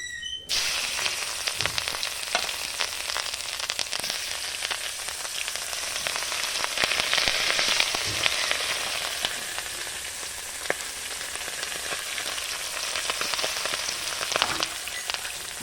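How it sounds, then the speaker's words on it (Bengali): Fish fries in a pan with a continuous, close hiss and sizzle, sprinkled with sharp oil crackles and pops that swell and ease over a long stretch, with no talking. "এবার মাছ ভাজা বসাবো"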